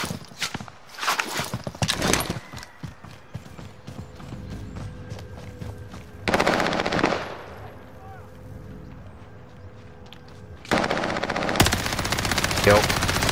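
Video game gunfire crackles in bursts of rapid shots, with dense volleys at the start, around six seconds and near the end, spaced by quieter stretches of lighter firing and ambient game noise.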